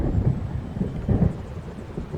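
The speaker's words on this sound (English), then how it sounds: "It seems there's a storm coming." Deep, rolling thunder from an approaching storm in the game Alan Wake, a low rumble that swells and fades without a break and has no sharp crack.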